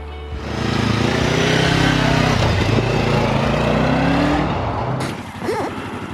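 Lexmoto LXR380, a 380cc sports motorcycle, pulls away on a test ride, its engine note rising steadily through the gears, loud and close, before easing off near the end amid wind and road noise.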